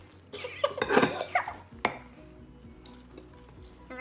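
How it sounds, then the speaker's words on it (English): Salt dough stirred in a bowl, giving a burst of clattering scrapes and knocks early on and then a single sharp clink before it fades to quiet. "And we're stirring it."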